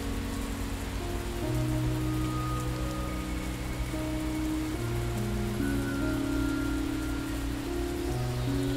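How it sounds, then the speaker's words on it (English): Steady rain patters continuously over a soft layered musical drone in the game Xing, a constant hiss of falling drops with no voices. "So I can stop it from raining."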